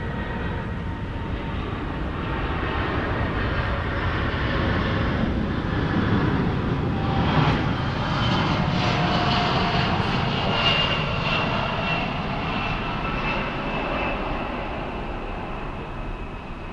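A Singapore Airlines cargo Boeing 747 at DFW Airport produces a loud, sustained jet engine roar that swells and rumbles for the whole stretch, without talking.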